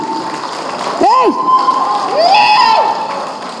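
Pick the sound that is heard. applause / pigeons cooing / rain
applause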